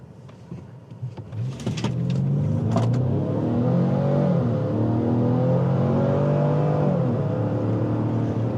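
A 2025 Lincoln Nautilus Reserve AWD slows and then accelerates again, its engine note rising into a smooth, steady whir and hum heard from inside the cabin, with a few short clicks and bumps at the start.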